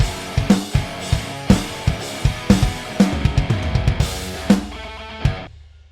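A programmed drum fill from Superior Drummer, with punchy snare hits and descending toms rolling in a busy rhythm before ringing out at the end, loud and alone.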